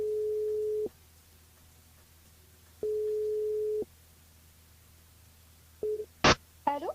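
Outgoing phone call from a French radio studio: two long steady ringback tones with a pause between, then a short third tone before an abrupt click and pickup noises, fairly clear over low room hum.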